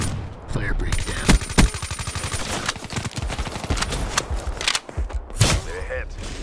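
Suppressed Weevil rifle fire with quickdraw in Black Ops 3 multiplayer, with rapid bursts of muffled shots and sharp transients repeating through the clip over steady game ambience.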